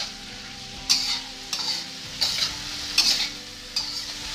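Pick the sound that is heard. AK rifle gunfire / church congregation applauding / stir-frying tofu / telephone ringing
stir-frying tofu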